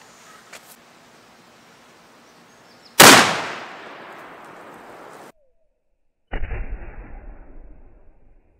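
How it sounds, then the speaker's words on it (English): A single sharp, loud rifle shot from a .338 Lapua cracks out and rolls away in a long decaying echo outdoors, followed after a pause by a rumbling tail of debris as a milk jug target bursts. "that caused a much bigger explosion than the 300 Win Mag"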